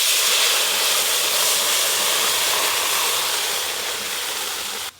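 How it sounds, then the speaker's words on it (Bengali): Dal poured into hot mustard oil tempered with dried red chilli, five-spice, bay leaf and turmeric gives off a loud, steady, broad hiss that holds nearly unchanged for about five seconds before cutting off abruptly. "ডাল ছকে নেব।"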